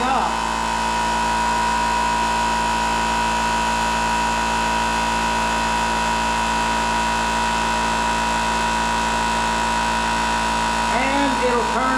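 A VEVOR 13-gallon, 126 psi air compressor runs continuously nearby as it pumps back up, a loud steady motor drone with constant hum and no pauses.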